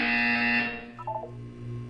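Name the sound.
buzzer in Portal 2 video game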